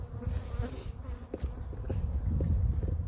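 Honey bees buzzing around a colony in a bee yard: a dense, constant hum of many insects close by, with a few louder individual bees passing near and some faint knocks underneath.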